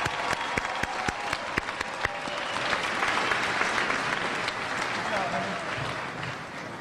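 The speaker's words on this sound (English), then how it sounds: "Please join me in applauding the graduates from the College of Humanities and Social" A commencement audience at a fall college graduation applauds the graduates, a steady wash of many hands clapping with a few sharper close claps, sustained throughout at moderate loudness.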